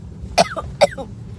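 Two short, dry coughs about half a second apart come from a person with a cold and an itchy throat, close to the microphone against a low, quiet background.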